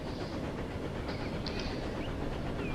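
Train rolling along the railway near Påarp station in Sweden, a steady close rumble with hissing and faint wheel squeals throughout, no talk.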